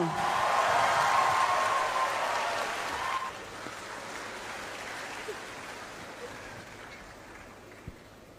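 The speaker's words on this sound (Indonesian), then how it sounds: "berikan tepuk tangan yang meriah untuk Cak Lontong." Applause from an audience greeting comedian Cak Lontong, loud and broad at first, then fading to a softer, distant wash of clapping and room noise.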